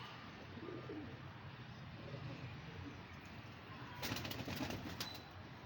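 Pigeons, young birds of a golden breed, cooing softly in a loft, a low steady murmur with faint fluttering and a brighter burst of wing movement near the end, quiet and somewhat distant.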